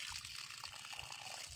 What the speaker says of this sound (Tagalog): Ganyan kalakas ang daloy ng tubig mga idol.